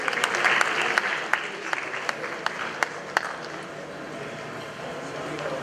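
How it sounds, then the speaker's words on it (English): Crowd applause at a media awards gala, a broad clapping wash with a few sharp, close claps standing out early, tapering gradually toward the end with faint voices underneath. "Shall we say thank you to her with a big round of applause?"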